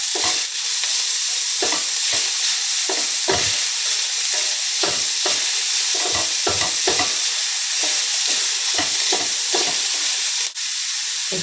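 Beef stir-frying in a pan for fried bihon noodles: a steady, loud sizzle with repeated scraping stir strokes in an irregular rhythm, with no voices.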